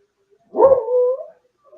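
A coonhound mix dog lets out a single loud, close bark that trails into a short howling whine, alone in a quiet room.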